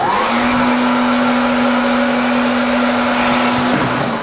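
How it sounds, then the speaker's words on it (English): A hair dryer runs in a shower lounge, a loud steady whirring blow with a constant motor whine throughout and a slight change in pitch near the end. "hair dryer."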